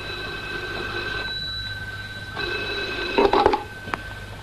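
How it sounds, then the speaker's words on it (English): A telephone rings in a radio drama, with a steady electronic warble followed by a short burst of bell-like ringing, heard over a soft background hum with no talk. "we were engaged in sorting our data when the telephone rang"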